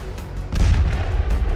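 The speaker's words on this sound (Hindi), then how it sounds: "राजधानी में विस्फोट हो रहे हैं, एयर डिफेंस सिस्टम एक्टिव है" Deep rumbling boom from an explosion during a missile and drone attack on Kyiv, a loud low swelling blast that rises midway and rolls on, heard alone without voices.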